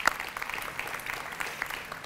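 Audience at a high school dual enrollment celebration applauding, a dense steady patter of many hands clapping for about two seconds.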